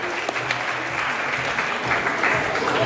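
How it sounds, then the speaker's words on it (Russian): Dense, loud applause from the audience at an international talent competition, honouring the organisers, a continuous crowd of clapping hands throughout the short stretch. "Аплодисменты, друзья, всем организаторам, всем, кто причастен."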